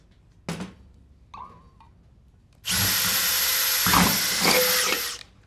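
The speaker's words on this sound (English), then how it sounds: "whatever you're drilling into your lid is at least bigger than" A power drill bores a hole into a jar lid used for growing cordyceps mushrooms. A few soft handling knocks come first, then a loud, steady high whine of about two and a half seconds with slight load changes before it stops.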